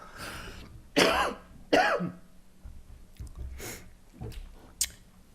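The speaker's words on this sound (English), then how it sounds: "I'm going to have a hearty cough" Several hearty coughs and throat clearings, sharp bursts spaced about a second apart, close by and fairly quiet otherwise.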